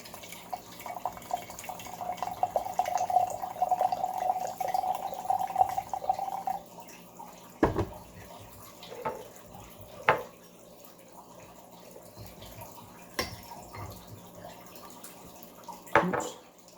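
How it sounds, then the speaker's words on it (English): Hot water is poured out of a tea vessel while brewing a 2005 Haiwan raw puerh: a steady, fairly quiet pouring stream for several seconds, then scattered drips and small clinks. "so let's get this hot water out of here."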